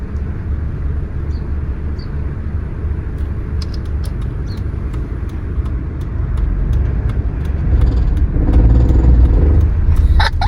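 A manual car's engine rumbles steadily during a driving lesson, then swells louder toward the end as it accelerates, with a few faint clicks and knocks from inside the cabin.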